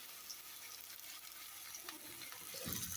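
Raw banana slices frying in oil in a pan give a soft, steady sizzling hiss, quiet and continuous, swelling slightly louder near the end, with no talking.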